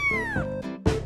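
A cat in the video game Mushroom Cats gives two short meows close up. The first slides downward in pitch, and the second comes after a brief pause.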